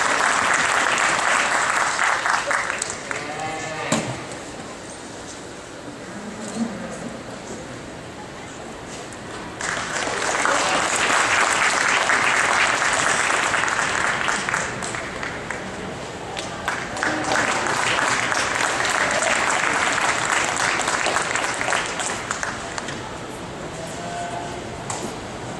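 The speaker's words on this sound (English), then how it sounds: "Let's clap our hands and give them a round of applause in this division." A cattle show audience applauds a division's entries, sustained clapping in swelling waves across the arena with a brief lull mid-way, the ring announcer's voice faintly under it.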